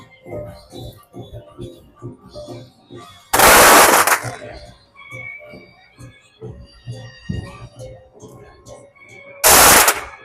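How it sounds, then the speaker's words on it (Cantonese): Firecrackers go off in two loud, rapid crackling bursts, one early and one near the end. Between them come rhythmic thumping and background noise, and people are heard nearby. "點炮仗點咁耐都點唔着？"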